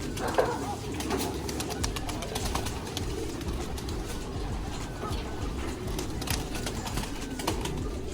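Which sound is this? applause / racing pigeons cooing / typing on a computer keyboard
racing pigeons cooing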